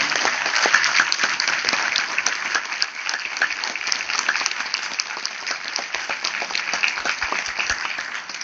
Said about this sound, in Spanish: Bien vale la pena otro aplauso a Oaxaca.